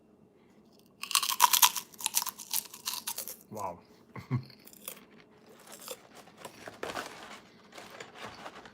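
Close, loud crunching of a crisp snack chewed in bursts, with several bites in a row, then quieter, intermittent chewing as a voice speaks briefly.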